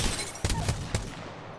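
Hip-fire gunshots in the shooter Apex Legends, three or four punchy reports spaced about half a second apart, fairly loud and close, with the tail fading out at the end.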